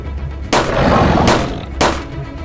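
Loud gunfire in the horror fantasy game Shadows of the Werewolf, heard as three sharp blasts that each trail off into a long, rough wash of noise.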